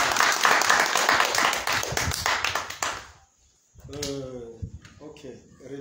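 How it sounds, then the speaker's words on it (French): A church congregation clapping together in steady rhythmic applause that stops abruptly, followed by someone speaking. "Acclamez pour le Seigneur."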